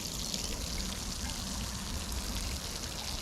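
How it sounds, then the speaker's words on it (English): Water pours in a steady, even stream from a modified garden watering can, a continuous splashing hiss onto the ground nearby with no voices. "Really a beautiful stream of water now,"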